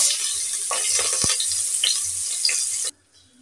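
Chopped onion frying in hot oil in a pan, a steady dense sizzle running close and loud for nearly three seconds, with a few soft stirring clinks, then cutting off abruptly to near silence.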